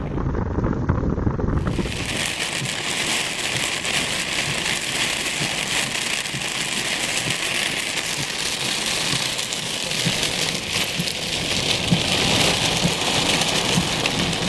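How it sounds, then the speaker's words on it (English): Heavy rain pours down steadily during a thunderstorm at Patoka Lake, a dense continuous roar of drops on surfaces with some wind buffeting, constant and loud after a brief quieter start. "this has turned into a serious storm here"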